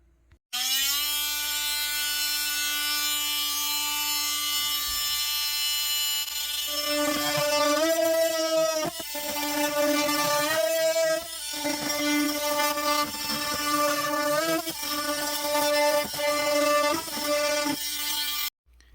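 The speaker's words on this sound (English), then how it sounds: "I'm using this, it's an oscillating saw. It's pretty nice for cutting more precise cuts." An oscillating saw cutting a metal barrel for a wood stove: a loud, steady high-pitched buzzing whine, close up, running continuously with small pitch dips as the blade bites, after a short quieter start.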